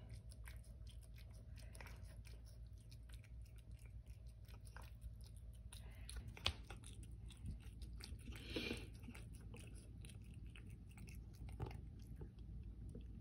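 An Abyssinian cat eats mashed potato with soft, faint smacking and chewing sounds, barely rising above a steady low background hum.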